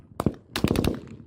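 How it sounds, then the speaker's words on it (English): Gunfire aimed at an aid convoy, heard as a single sharp shot followed by a rapid burst of several cracks in quick succession, fairly close and harsh. "The sound of gunfire goes on for more than 5 minutes."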